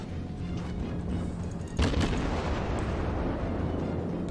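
Naval gunfire from an Orlan class cruiser in World of Warships, with a steady rumbling battle backdrop broken by one sharp, heavy shell impact or blast that rings out and fades into ongoing low booms.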